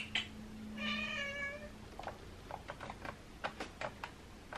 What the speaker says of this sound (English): he's just walking around meowing